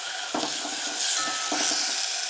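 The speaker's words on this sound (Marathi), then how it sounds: "हे वाटण तयार करून घेतलेलं आहे ते थोडंसं परतून घ्यायचं आहे" Ginger-garlic-chili paste with onion and turmeric is stirred in a hot pan, giving a steady close sizzle and the scrape of a spoon against the pan.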